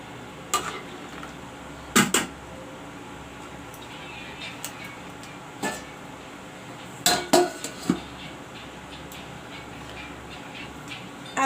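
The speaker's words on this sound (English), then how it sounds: "Friends, now I am going to cover this and let it cook nicely." A metal lid clanks onto a pot of mutton curry cooking with lots of tomatoes, a few sharp knocks and clatters against a low background hum, with occasional speech.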